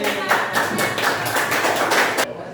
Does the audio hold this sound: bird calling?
no